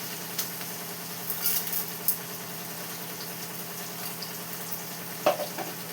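Ingredients frying in a pan with salt added, a steady dense sizzle running throughout, close and moderately loud, with a few faint clinks on top.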